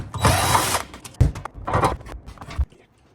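Power tool unbolting a truck seat, several short, close bursts of whirring and ratcheting, a longer burst first and then a few quicker ones, each broken by brief pauses.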